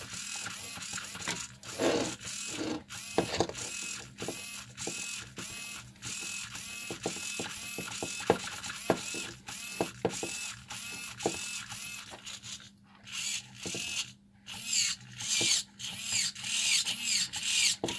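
A Tower Pro MG996R servo motor running, giving a buzzing, ratcheting gear whine in repeated bursts with brief pauses between movements, close and fairly quiet, with no talk.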